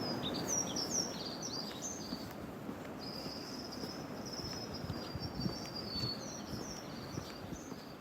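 Faint London birdsong chirps and trills high above a soft, busy background murmur, with a longer warbling call in the middle.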